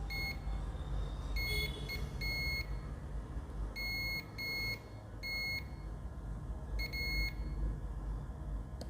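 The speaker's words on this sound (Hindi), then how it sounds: "मैं ये सर्च कर रहा हूँ कि क्या कोई कैपेसिटर बोथ साइड बीप देता है।" Continuity beeps from a multimeter while a capacitor is probed on a Samsung F23/M23 phone board during repair, several short electronic bleeps in bursts over a steady background hum, with no talking.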